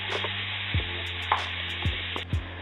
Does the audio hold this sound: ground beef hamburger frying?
yes